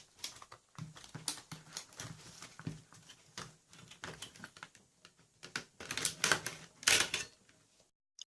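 Keys being pried off an ASUS K550L laptop keyboard, a rapid series of sharp plastic clicks and snaps, close and irregular, with brief quiet gaps between bursts.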